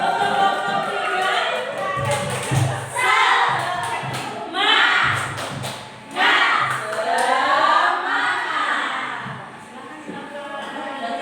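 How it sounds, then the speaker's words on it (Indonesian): A group of students claps a rhythmic cheer together, quick patterned hand claps woven into a loud group chant, repeated in short bursts in a room. "kasih tepuk semangat untuk kelompok 3"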